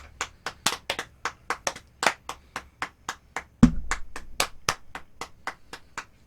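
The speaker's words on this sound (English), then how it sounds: "Why are you clapping at me?" Steady hand claps in a regular rhythm, close and crisp, around twenty sharp claps with a brief low thump partway through; no talking.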